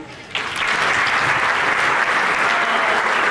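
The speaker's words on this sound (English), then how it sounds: "And also a hand clap for Mr. Salerno." Audience at an eighth grade school promotion assembly breaks into applause for a teacher, starting after a short quiet moment and swelling into steady, dense clapping.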